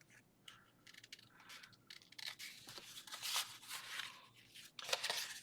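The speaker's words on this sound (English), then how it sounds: "I'm just going to use my scissors and trim that corner" Scissors trim a paper corner on a handmade flex-hinge journal, a quiet close series of snipping and crisp scraping cuts that grow denser and louder toward the end.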